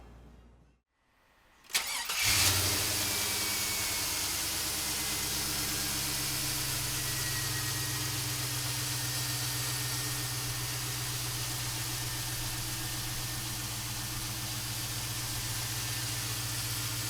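A 1972 Chevrolet four-wheel-drive pickup with an LS engine cranks briefly and fires, then settles into a steady, loud, close idle that runs on alone for many seconds.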